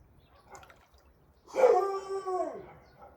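A dog near an outdoor plunge pool lets out a single drawn-out howl that rises and then trails off, fairly close and loud against near silence, preceded by faint rustling.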